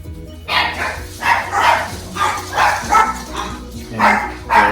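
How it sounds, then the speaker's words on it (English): Several dogs bark in repeated rough bursts indoors, loud and fairly close, roughly one bark every half second to second with a low background hum. "there's all my dogs barking on the video"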